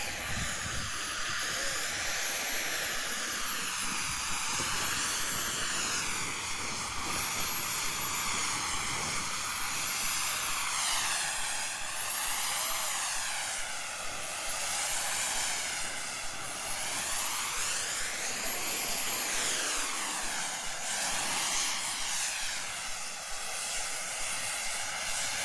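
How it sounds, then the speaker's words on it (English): A small RC model jet's engine whines and hisses continuously, its pitch sweeping up and down in waves as it passes, loud and steady throughout. "I guess it must have a real jet engine in it"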